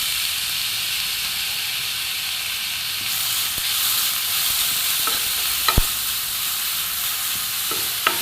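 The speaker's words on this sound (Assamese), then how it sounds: "একেখন পেনতে অকমান ঘি দি প্লাইনি মই এটা অমিতাখিনি ভাজি লম" Raw papaya is frying in ghee in a pan, giving a steady bright sizzle throughout with occasional stirring clinks and scrapes near the end, no talk.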